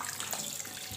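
Tap water runs in a steady, soft stream over fish being rinsed in a sink, a brief continuous splash with no voices.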